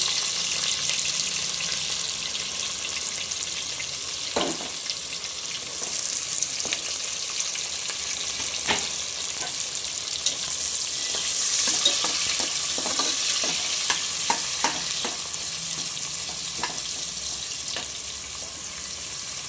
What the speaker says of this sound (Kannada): ಈರುಳ್ಳಿ ಕಟ್ ಮಾಡ್ಕೊಂಡಿರೋಂಥದ್ದು ಹಾಕೊಳ್ಳೋಣ.